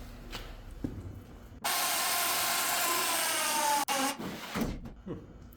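A homemade mini dump trailer with no hydraulics, tack-welded and lifting under a load, gives a loud, steady mechanical whine and grind that runs for about two seconds, breaks briefly and carries on, with faint speech before and after.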